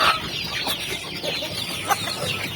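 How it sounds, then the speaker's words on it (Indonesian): Free-ranging chickens cluck and chatter together outdoors, several birds overlapping in a busy, fairly close flock with no voices. "ini ayam-ayam kita yang sudah ada di liaran"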